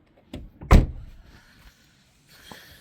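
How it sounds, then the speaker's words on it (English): A car door slams shut in one loud, close thud, followed by a short rattle and faint settling noises, then a quieter click near the end. "Let me shut that door."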